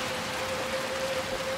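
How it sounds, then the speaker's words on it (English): Steady, dense rainfall from the video game Little Nightmares 2 fills the scene as an even, continuous hiss with no voices over it. "It's because it's raining, right?"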